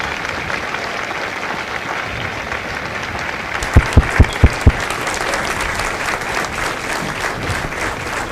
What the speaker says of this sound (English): a round of applause for their dedicated service to Corps and country